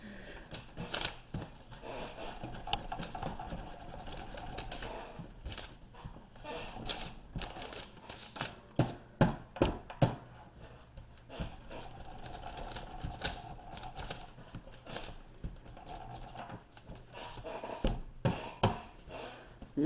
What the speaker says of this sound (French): J'essaie de le gommer pour faire le chalet en plus grand.